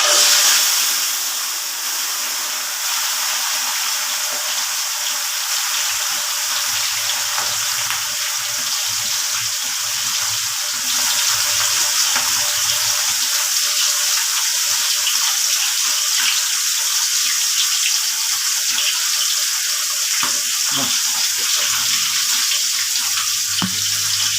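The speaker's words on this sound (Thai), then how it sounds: "น้ำมันตะไคร้เดือดแล้วใส่ปลาไปเลย" Tilapia frying in hot boiling lemongrass oil gives a steady, close hiss and sizzle that runs unbroken throughout, with faint low bubbling underneath and no voices.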